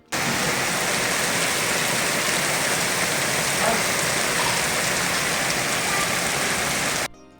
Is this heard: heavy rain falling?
yes